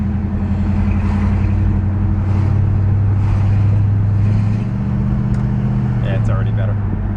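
A 1967 Plymouth engine runs steadily while driving, a low droning hum with mild revving swells, heard from inside the car as someone talks over it.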